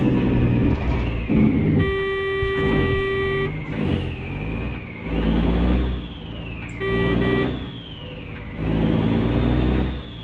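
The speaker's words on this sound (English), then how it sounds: "Sounds a wee bit of a feeble horn for a truck this size." A truck horn in Euro Truck Simulator 2 sounds in two thin, steady blasts over a revving engine whose pitch rises and falls as it changes gear.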